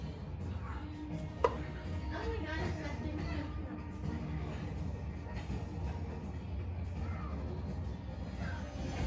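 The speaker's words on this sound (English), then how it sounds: "I'll probably cut up some more onions" Onions are cut up on a board in a home kitchen, giving soft, irregular knife taps under a steady background hum and a voice talking.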